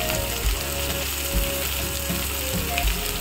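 Onions fry with green chillies in a pan, giving a steady loud sizzle with faint periodic knocks and scrapes of stirring through it.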